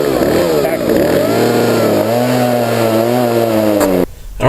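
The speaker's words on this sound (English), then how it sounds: "chainsaws are designed to crosscut, and we're using it for a ripping situation" A 16-inch chainsaw rips lengthwise along a log, its engine roaring loud and steady near at hand before a brief drop at the end.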